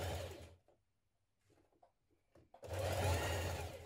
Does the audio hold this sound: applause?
no